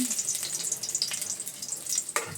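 Shrimp fritters frying in hot oil, a steady close crackling sizzle with light bubbling throughout and one sharper pop near the end, no voices.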